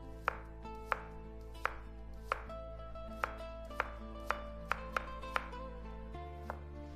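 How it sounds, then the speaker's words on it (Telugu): A knife chops peeled cucumber into small pieces on a board for a cucumber yogurt relish. About a dozen crisp, close chops land at an uneven pace with no talking. "కీరదోసకాయను తొక్క తీసి చిన్న ముక్కలుగా తరిగాలి."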